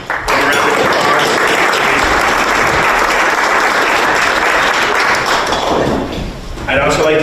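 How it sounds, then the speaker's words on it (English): A room of people at a Chamber of Commerce breakfast clapping for the food sponsors, dense sustained applause close and loud, tapering slightly near the end before a final swell. "let's give them a round of applause"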